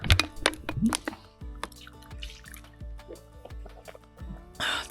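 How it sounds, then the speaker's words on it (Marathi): Cold water gurgles and bubbles in repeated glugs into a bottle submerged in a fort water cistern, with drips and small splashes close by in a quiet setting. "बुडबुडे आल्यानंतर जे पाणी पूर्ण भरेल त्यानंतर डायरेक्ट काढा"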